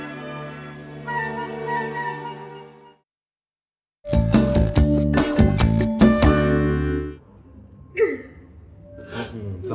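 A single sneeze bursts out near the end, following a sustained musical tone, a short silence and a loud stretch of music in a comedy scene.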